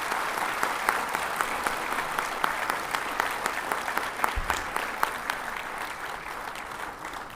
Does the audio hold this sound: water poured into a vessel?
no